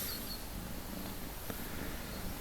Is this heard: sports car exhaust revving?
no